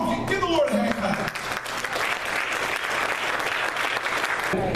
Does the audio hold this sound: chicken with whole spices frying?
no